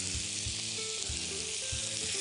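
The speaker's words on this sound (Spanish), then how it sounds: "Vamos a darle aquí un salteado importante a la carne" Beef tenderloin sears steadily over high heat in a pan with a little oil, a continuous loud frying hiss with faint low knocks and scrapes of stirring underneath. No voices.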